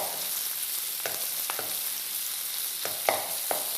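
Mushrooms sauté in a hot pan for an omelette, giving a steady close sizzle broken by a few sharp clicks and scrapes of a utensil against the pan.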